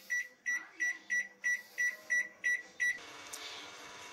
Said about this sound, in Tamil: இப்போ ஓவன் ஸ்டார்ட் ஆயிடுச்சு